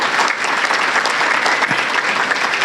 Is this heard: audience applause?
yes